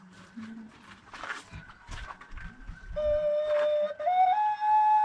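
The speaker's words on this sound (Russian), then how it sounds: "Есть свистульки окаринки, которые дают низкий звук, такой бархатистый." A steady clay ocarina whistle tone rising in pitch in a few steps, played close over background voices and some soft thumps.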